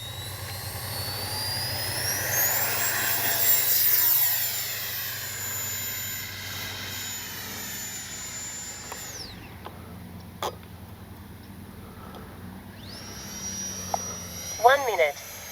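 A small E-flite 64mm Viper electric ducted-fan RC jet spools up with a rising whine and takes off without flaps, the sound holding steady, then cutting out and returning while brief clicks and bumps are heard.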